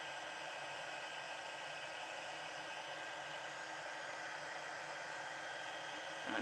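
Heat tool blowing hot air over embossing powder on Stampin' Up stationery, a continuous even fan roar at low level that holds steady throughout with nothing else heard.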